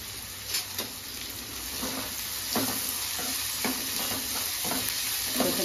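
A utensil stirs and mixes onions and salt in a frying pan, with repeated scraping strokes over a steady sizzle from the cooking food, close and moderately loud, no talk.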